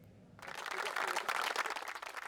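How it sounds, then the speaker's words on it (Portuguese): Applause greets Lionel Messi at Paris Saint-Germain training in honour of his World Cup win. A short quiet moment gives way to a sudden, dense burst of clapping that stays steady to the end. "foi homenageado pela conquista da Copa do Mundo com muitos aplausos"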